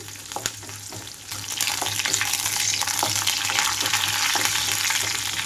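Green chillies and ginger fry in hot oil in a pan for buttermilk upma, giving a steady, fairly loud sizzle that swells after the first second and carries on without pause, with no voices present.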